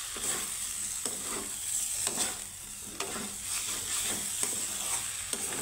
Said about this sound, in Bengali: মশলার সাথে আমি কাঁকরোলটাকে সুন্দর করে একটু ভেজে নিব।